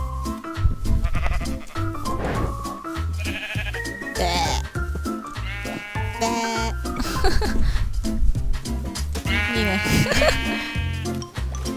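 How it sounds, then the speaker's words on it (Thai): Minecraft sheep bleating repeatedly in the video game, several wavering bleats overlapping at irregular intervals, fairly loud and close, with players talking in between. "ตอนนี้ก็มีแต่แกะ"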